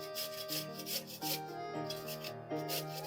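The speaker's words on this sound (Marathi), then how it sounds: "आता आपण हे 4 तुकडे करून घेतलेला कोबी आहे तो असा मध्यम आकाराच्या किसणीवर किसून घ्यायचा आहे." Cabbage cut into quarters is rubbed on a medium kitchen grater in steady back-and-forth rasping strokes, close and moderately loud, with no talking.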